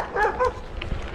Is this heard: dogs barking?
yes